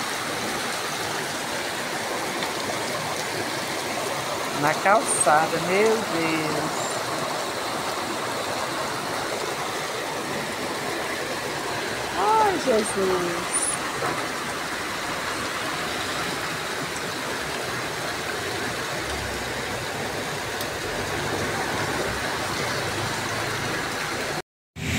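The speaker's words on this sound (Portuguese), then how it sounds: "Muita chuva." Heavy rain pours steadily onto a street and sidewalk in Ibicaraí, Bahia, a dense continuous wash of water. A few brief spoken exclamations rise above it.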